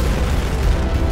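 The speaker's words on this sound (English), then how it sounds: "Grenades." A grenade blast in a Destiny 2 raid booms as a loud, dense rumble that holds for about a second without a break.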